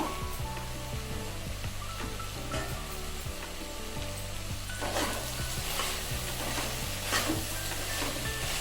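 Vegetable pieces cook with ginger garlic paste in a pan, a steady close sizzle and crackle running throughout with faint scraping stirs.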